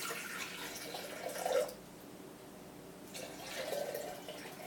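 Tap water runs and splashes into a 4-cup measuring cup, a soft steady flow with two fuller surges, faint and close, with no talking.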